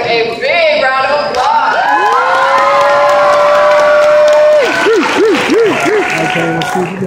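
Crowd applause and cheering at the debut performance of a choir, loud and sustained, with whoops and excited voices mixed in and a sweeping pitch-bending tone riding over the clapping.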